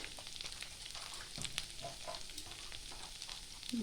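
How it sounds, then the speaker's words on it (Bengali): Ginger and cumin seeds frying in hot oil give a steady close crackling sizzle, with a few soft stirring knocks partway through and no talking. "আদাটা একটু ভেজে নেব। দিয়ে দেবো জিরে 1 চামচ"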